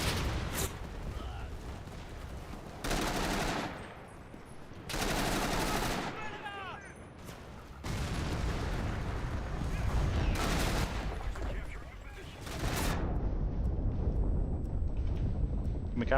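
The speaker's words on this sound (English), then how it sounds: "No, it's an enemy artillery strike, because of course." Enemy artillery strike in the video game Enlisted, with repeated heavy explosion blasts and gunfire in long roaring bursts over constant battle rumble.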